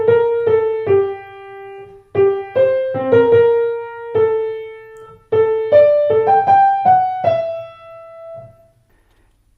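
B theme from a cue in the Jurassic Park score, played by a single piano-like instrument in three short phrases of clear melodic notes, with brief gaps between phrases, close and loud, the last note fading out.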